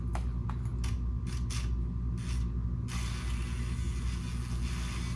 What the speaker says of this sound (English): It feels like it is really taking a lot out of that thing to move the tires just a little bit.